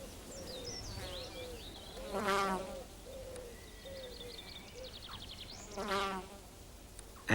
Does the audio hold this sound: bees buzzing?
yes